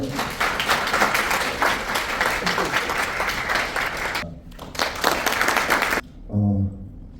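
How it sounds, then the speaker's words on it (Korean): Audience applause in a lecture hall welcoming a speaker to the stage, a dense sustained roar of clapping that runs about six seconds, dips briefly, then fades out into a voice beginning to speak. "큰 박수로 모시겠습니다"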